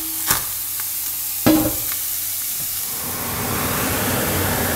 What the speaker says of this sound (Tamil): இப்படியே நல்லா கிண்டுங்க, அதை நல்லா கிளறி கொடுங்க